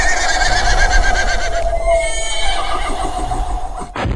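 A horse gives a loud, close whinny, a long wavering neigh that runs for several seconds and ends with a sharp knock.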